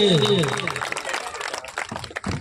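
An audience applauds at an Ambedkar Jayanti celebration. A voice or tone opens briefly, then a crowd of hands claps in a busy, moderately loud patter that carries on to the end.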